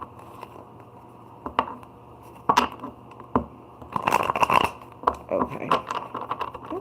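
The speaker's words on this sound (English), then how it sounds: "I need to shuffle a little, okay? You can't just start a reading out without shuffling your cards." Tarot cards being shuffled by hand at close range, scattered soft riffles and taps building into denser bursts of papery slapping and shuffling.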